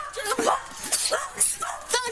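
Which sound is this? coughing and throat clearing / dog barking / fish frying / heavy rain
dog barking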